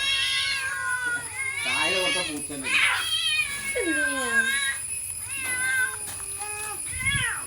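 A white cat meows repeatedly and close by, with drawn-out wavering calls and some rising and falling caterwaul-like cries in an irregular sequence.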